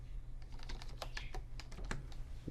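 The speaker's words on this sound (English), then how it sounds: "Don't worry about the typing." Rapid clicking of keys on a computer keyboard, a steady run of light taps at close range, quiet and alone over a low steady hum.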